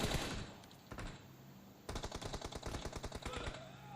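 Rapid bursts of automatic gunfire from PUBG Mobile come as a short opening volley, then a longer rattling string of shots, fairly close and loud with no talk over them.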